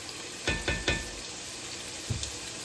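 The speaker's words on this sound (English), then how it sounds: "We're going to let them saute a little bit" Vegetables sautéing in a pot for cabbage soup give a soft, low sizzle, with a quick cluster of three close stirring scrapes early on and a couple more near the end.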